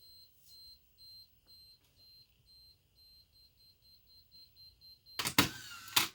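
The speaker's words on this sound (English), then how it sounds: "Then the self timer will illuminate. Beep." A Pentax A3000 film camera's self-timer beeps a countdown in a quiet room: short, evenly spaced high beeps that quicken toward the end before a louder mechanical shutter snap.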